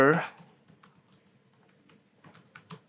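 Keystrokes on a computer keyboard while typing text for an HTML lesson: a louder thump at the start, then scattered light, quick clicks with pauses and a few firmer taps near the end, close and fairly quiet.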